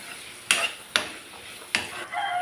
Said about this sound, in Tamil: வேக வச்சதை நல்லா பிரட்டி விட்டுருவோம்.